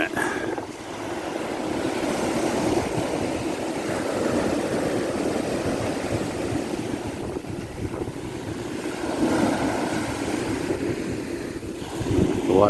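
Ocean waves wash steadily onto a beach under a warm breeze, a continuous loud surf roar with wind buffeting the microphone throughout and a few surges near the end.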